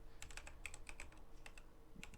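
Rapid, uneven clicking of keys on a computer keyboard as someone types into a Windows search box, close and fairly quiet, with no talk.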